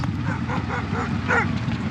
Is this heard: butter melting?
no